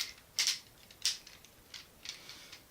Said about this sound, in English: Got the heavy ratchets